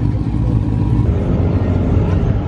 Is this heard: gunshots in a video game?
no